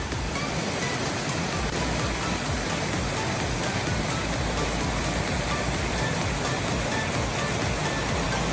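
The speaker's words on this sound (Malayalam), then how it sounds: "അത്യാവശ്യം നല്ല പ്രഷറിൽ വെള്ളം ഒഴുകുന്നുണ്ട്" A roadside stream on the way to Munnar rushing under strong pressure, a dense continuous roar of flowing water, loud and steady with no break.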